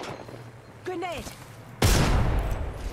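Gunfire aimed at the player in Apex Legends: a sudden loud burst of rapid shots erupts near the end and continues, following a short electronic chirping effect over quieter game ambience.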